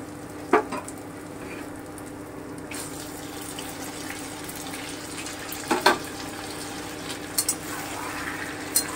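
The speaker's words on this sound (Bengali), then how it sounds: "এবারে আমি চিকেনটা দিয়ে দিচ্ছি।" Chicken sizzling and frying in a pan, a continuous crackle at moderate level broken by a few sharp clatters of a spatula or utensil, with no one speaking.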